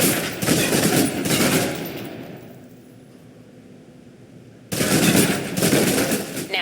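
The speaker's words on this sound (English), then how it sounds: "Now, let's move on to the submachine gun. Now let's empty the clip." A submachine gun in Alpha Protocol empties a full magazine in long, dense bursts of loud rapid fire, with a quieter pause between two sustained volleys.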